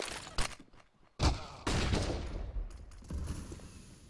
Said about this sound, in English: Smooya got the drop on X-Flower, but the AK headshot comes back at him